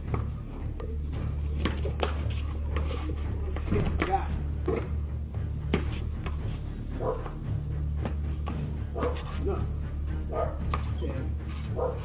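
A pitbull attacks a cat, with scattered sharp dog barks and yips and scuffling thumps over a constant low hum. The noise is rough and uneven and comes in irregular bursts.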